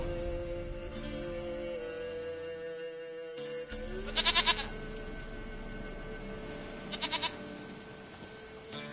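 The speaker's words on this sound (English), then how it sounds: "Goat of mine, dearest, sweetest goat." Goat bleats from The Witcher 3 video game, two short quavering cries near 4.3 and 7 seconds over steady game music and ambience.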